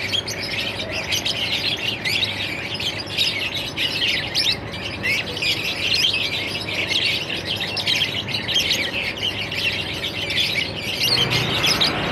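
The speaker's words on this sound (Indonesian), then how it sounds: "Suara burungnya banyak sekali." Many birds sing and chirp continuously in a city forest in Jakarta, a dense layer of overlapping calls and tweets that holds steady throughout, with a low hum of distant background noise underneath.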